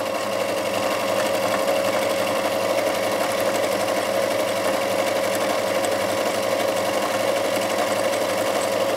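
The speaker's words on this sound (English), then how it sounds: "start sewing here" A Janome DC1050 sewing machine stitches fabric in one continuous, even, high-speed whir with a rapid mechanical buzz. It runs loud and close for the whole stretch, with no talking.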